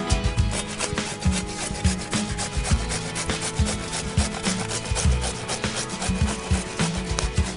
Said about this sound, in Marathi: झाली, किसून झाली काकडी.